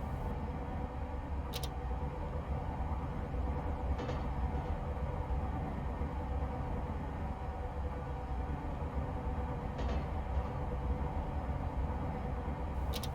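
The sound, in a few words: train coasting with power at idle, from a train simulator video game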